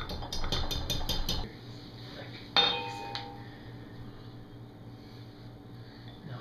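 A utensil clinks rapidly and rhythmically against a bowl while zucchini bread batter is mixed, followed by one sharper clank and then a quiet stretch with faint room hum.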